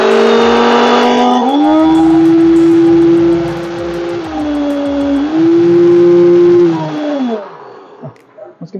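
A two-speed kitchen blender runs at full power, a loud, steady motor whine that climbs in pitch as it spins up, dips slightly, rises again and then cuts off near the end.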